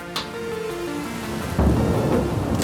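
A thunderstorm sound effect sets a spooky Halloween scene: steady rain with a sharp crack early on, then a deep rolling thunder rumble swelling halfway through, loud and close, with no voices.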